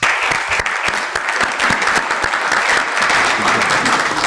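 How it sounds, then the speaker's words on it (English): An audience at a conference session applauds the panelists, a steady, dense clapping from a sizeable room that stays loud throughout with no talking over it. "A round of applause to the panelists"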